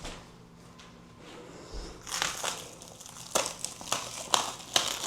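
Plastic packaging for a home office decor item crinkles and tears close by, quiet handling at first, then a run of sharp, uneven crackling rips in bursts.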